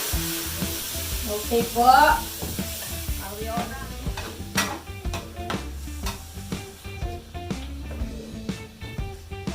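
Minced beef frying and stirred in a pan for Filipino-style spring roll filling, with a steady sizzle under scraping and clattering utensil strokes, and a voice speaking briefly near the start.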